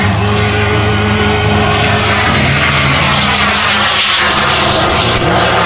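Aircraft engines run at full power during a 2014 air show, producing a loud, sustained roar close by with a steady engine drone throughout.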